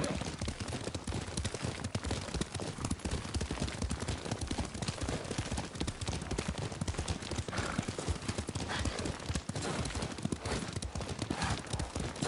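Horse hooves gallop steadily through a Ghost of Tsushima game scene, a dense, continuous clip-clop rhythm that holds for the whole stretch at close range, with a brief whinny and faint distant combat noise underneath.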